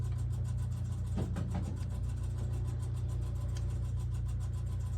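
A low, steady distant airplane engine rumble at a glider club airfield drones on without a break, with a faint rattle near the start and no voices.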